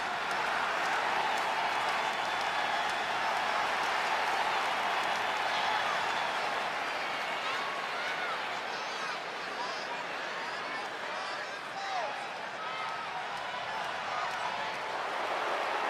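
A large arena crowd at WWE SmackDown keeps up a steady roar of cheering and scattered clapping, heard from a distance beneath commentators talking.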